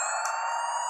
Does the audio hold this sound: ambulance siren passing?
yes